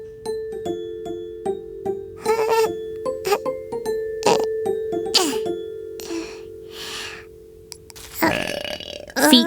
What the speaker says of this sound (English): Let's do something to stop your burps.